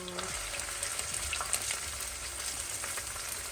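Loud, continuous sizzling of green pepper frying in a pan, with occasional stirring clatter and no talking.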